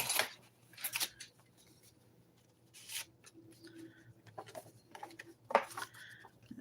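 Scissors cutting material at a table, a few quiet scattered snips and rustles at close range, faint and intermittent with stretches of near-silence between them.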